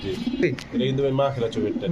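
Pigeons at a market selling Beauty, Danish, King and Racer breeds give soft, repeated cooing close by, mixed under steady conversation.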